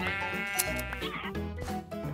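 Sheep in Minecraft bleat several times in a row, close and clear over background game music, with no talk.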